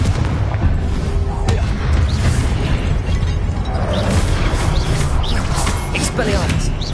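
Confringo fire spell explosions in the Hogwarts Legacy video game, a dense, loud, continuous barrage of booms and bursts layered with clashing spell effects throughout.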